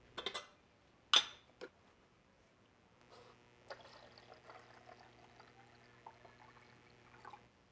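Water pours into a kettle or vessel while preparing French press coffee, a steady trickle lasting several seconds after a few sharp clunks and taps, fairly quiet and close.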